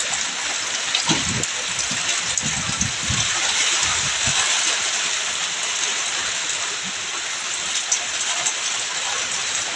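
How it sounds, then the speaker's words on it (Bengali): Heavy rain pours in a dense, steady hiss, with a few low thuds of water early on and no pause throughout. "আজকে আমাদের এখানে প্রচুর পরিমাণে বৃষ্টি হইতেছে।"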